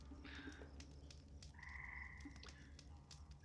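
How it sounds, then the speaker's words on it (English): Frogs croak in a steady, faint chorus in a jungle at night, with a few higher calls that may be nocturnal birds drifting over the low, constant background. "little sounds of frogs and a couple of nocturnal birds"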